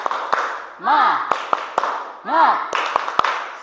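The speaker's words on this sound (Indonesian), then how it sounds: "kita tepuk semangat lagi ya, biar lebih semangat" A school class claps in a quick, rhythmic pattern for a spirited cheer, sharp claps spaced in sets between bursts of chanting voices.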